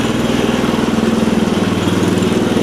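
A classic Cub Cadet 70 garden tractor engine runs steadily at a close, loud idle with an even low-pitched putter and no voices over it.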